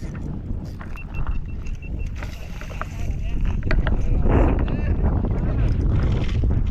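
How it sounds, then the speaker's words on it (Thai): Strong wind buffets the microphone at a sea bass fishing pond, a steady low roar that grows louder midway, with people talking under it. "ลมมันแรงอ่ะ"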